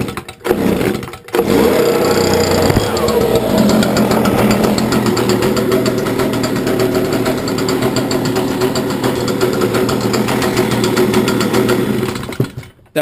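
A Stihl BG86C leaf blower engine, started after three weeks unused, runs steadily at close range for about twelve seconds with a buzzing, slightly knocking two-stroke drone, then cuts off.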